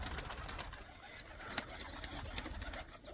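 High-flyer pigeons coo softly in the background amid scattered flutters and light clicks, fairly faint with a steady outdoor hush.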